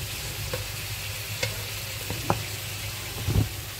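Potatoes fry in a pan with a continuous soft sizzle, broken by a few scraping stirs and clinks of a utensil, the last and loudest near the end; no one speaks.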